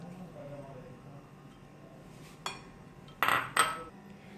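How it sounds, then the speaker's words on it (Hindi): Butter going into a mixing bowl for chocolate chip cookie dough, a quiet kitchen backdrop broken by a few clinks and knocks of a utensil against the bowl. "बाउल में मैं मक्खन ऐड कर रही हूँ।"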